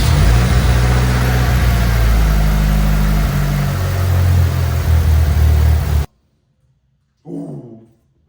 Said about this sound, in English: crank over the car for like a couple of seconds, let all the oil kind of like rotate